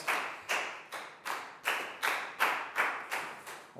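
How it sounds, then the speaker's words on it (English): Clapping in a primary school classroom, nine evenly spaced loud claps in a steady rhythm, close by and with no talk. "High five and a big round of applause"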